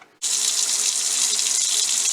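A kitchen tap switches on after a brief silence and runs steadily into a water bottle, a close, loud, even rush of water filling the container.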